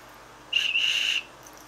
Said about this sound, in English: And this doubles as a whistle.